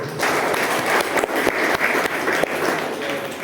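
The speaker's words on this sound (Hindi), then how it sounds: "एक बार जोरदार ताली बजाइए।" Dense applause from a lecture audience, loud and steady for a few seconds with sharp individual claps standing out.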